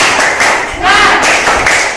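An elementary school class performs a rhythmic spirit clap together, bursts of sharp hand claps mixed with chanting young voices, loud and near.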